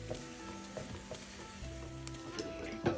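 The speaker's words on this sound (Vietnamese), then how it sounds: "Mày còn đang chiên bacon mà." Bacon sizzling and frying in a pan, a steady close crackle of hot grease that runs throughout with a few louder pops, no talking.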